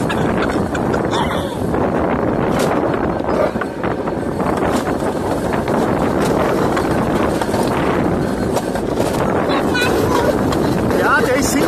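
Strong wind rushes and buffets the microphone nonstop on the Nocky Flitzer alpine roller coaster at Turracher Höhe, a loud, steady roar with voices heard over it.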